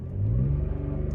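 A 2012 Audi S4 launching at full throttle with launch control gives a deep, steady engine drone that rises briefly and holds, heard close from inside the car, with no talk.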